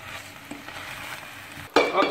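Spoon stirring rice into curry in a frying pan, soft scraping over a light sizzle, then a sharper clatter of utensil against the pan near the end, close and brief with no talking.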